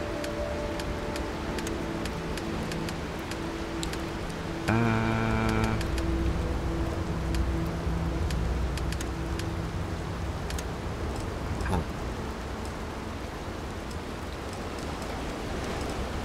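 Steady rain falling in the Starfield video game on an alien planet, a constant broadband hiss with soft patter, joined midway by a short burst of tonal game sound and faint background music.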